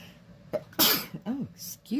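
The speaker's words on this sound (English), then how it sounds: "I was going to sneeze" A woman's sudden sneeze bursts out mid-session while she is stitching, sharp and close, preceded and followed by brief vocal sounds and throat noises.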